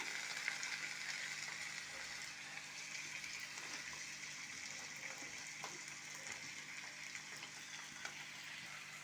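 Ivy gourd, sliced onion and green chilli fry in a pan with a soft, continuous sizzle and occasional stirring, fairly quiet and even throughout with no voices.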